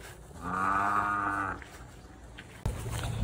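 A cow on a country plantation road gives one clear, sustained moo lasting about a second, near and loud, followed by outdoor background noise.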